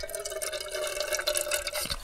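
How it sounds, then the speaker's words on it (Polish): Lake water trickling and dripping through a camping water filter outdoors on a fishing trip, a thin continuous run of liquid with small splashy drips, close and fairly quiet. "woda leci."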